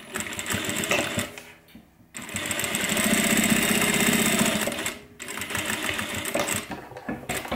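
Sewing machine running close up while top stitching across the top of a messenger bag, bursts of rapid needle clatter broken by short stops, with a long steady run in the middle and no voices.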